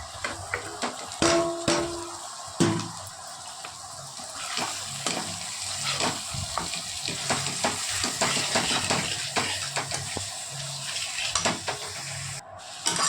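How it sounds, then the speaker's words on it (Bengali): A grated tomato and spice masala for an egg, potato and pointed gourd curry sizzles in a pan while a spoon stirs and scrapes against the metal, with occasional clinks. "ভালো করে কষিয়ে নেব মশলাটা"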